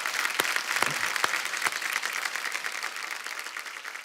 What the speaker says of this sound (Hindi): एक बार जोरदार तालियां हो जाए हमारे सारे स्टार्स के लिए।